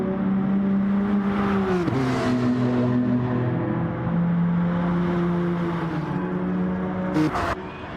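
An onboard race car engine in a sim racing game drones steadily and close up, its pitch stepping down and climbing back through gear changes.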